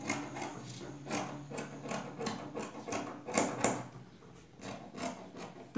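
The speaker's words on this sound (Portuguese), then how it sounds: "Tô cortando devagarzinho pra vocês verem." Slow, close cutting of fabric with scissors, a series of soft rhythmic rasping snips repeating about every half second over a quiet background.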